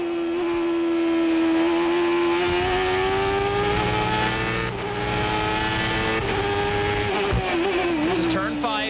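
A race car's engine at the 1995 Toyota Grand Prix of Monterey, holding a loud, sustained high whine that rises slightly and wavers near the end as the throttle changes, with a voice faintly underneath.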